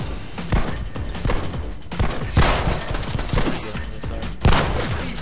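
Rapid shotgun blasts from a first-person shooter game The Club, Alcatraz level, sharp loud bursts repeating irregularly over a busy combat background with crashes and impacts, no talking.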